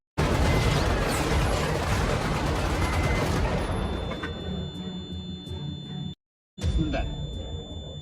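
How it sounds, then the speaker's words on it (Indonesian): A dense, loud burst of rapid gunfire rattles on continuously, thinning out toward the end with a brief cut to silence before the noise resumes. "langsung diberondong dengan tembakan secara brutal"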